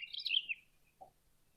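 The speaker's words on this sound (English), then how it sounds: "a thrush. Let's listen to what he has to say." A single bright, descending songbird phrase, faint and somewhat distant, followed by a soft low note and quiet.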